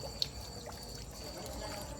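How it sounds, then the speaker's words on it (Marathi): Water spills steadily over the side of a container being filled by a running motor pump in a garden, a faint, continuous trickling wash with one brief click near the start. "हे इकडून या साईडनं पाणी सांडून राहिलं ना."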